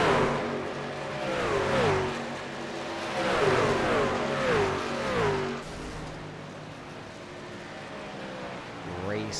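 Race cars on the track at Homestead during a Scrambler Series night race, several engines howling past in rising and falling waves, near then fading, under a commentator's voice.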